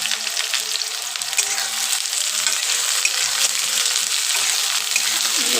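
Onions frying in a pan for a chicken gravy, giving a loud, dense, continuous sizzle that holds steady and close for the whole stretch with no talking.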